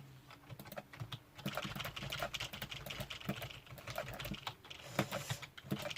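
Fingers type quickly on a non-mechanical computer keyboard, a close, soft patter of key presses in uneven bursts with brief pauses and no speech.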